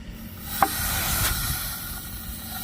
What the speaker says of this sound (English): getting all the air out of the line